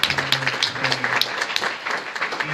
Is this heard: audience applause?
yes